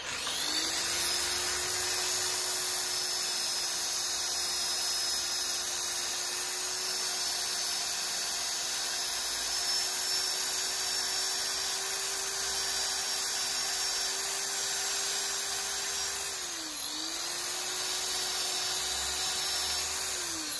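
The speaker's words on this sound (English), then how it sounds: "Right, I'm just going to sand that." A wooden cowboy hat spins on a woodturning lathe while being sanded, a steady close motor whine with a constant hissing rub, briefly dipping near the end before running on.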